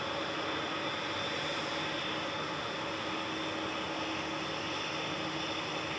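A Singapore Airlines Airbus A350-900 jet, registration 9V-SMQ, at Manchester Airport, producing a steady broadband engine roar that holds evenly throughout, fairly distant and without talk.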